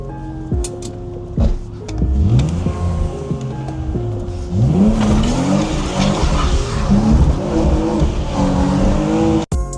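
A BMW E46 drift car driving on a road, its engine revving up and down in rising and falling sweeps with some tire noise, loud and close throughout with no talk.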